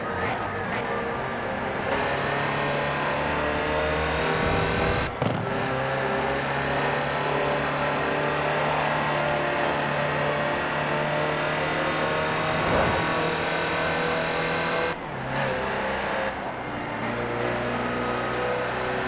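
A Land Rover Type 3 engine drones steadily while driving in Forza Horizon 4, with a few brief dips and gear changes, and a voice talks over it throughout.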